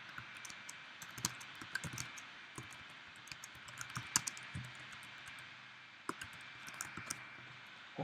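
Soft, irregular clicks of fingers typing on a computer keyboard, close and fairly quiet, in short bursts with brief pauses and no talking.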